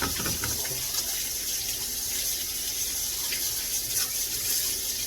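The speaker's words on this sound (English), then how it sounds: "I got to wash my hands with salt, with a little soap and water." Tap water runs steadily into a sink during handwashing with soap, a continuous close splashing hiss with no talk over it.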